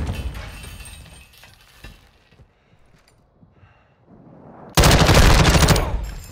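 Video game gunfire comes first as a fading rattle with scattered shots, then near-silence, then a sudden loud sustained burst of automatic fire with breaking-glass crashes close up.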